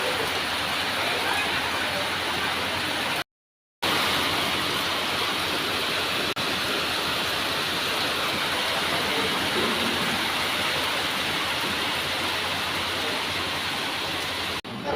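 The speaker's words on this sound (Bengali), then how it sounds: "মুষলধারে বৃষ্টি শুরু হয়েছে, বিশাল জোরে বৃষ্টি হচ্ছে, বিশাল জোরে" Heavy rain pours down in a steady, loud, dense hiss with no let-up, broken only by a brief dropout partway through.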